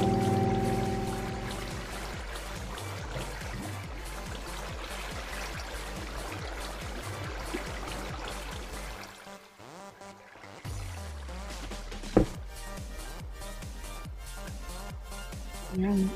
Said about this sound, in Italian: Potrei usare queste cascate di acqua per risalire su.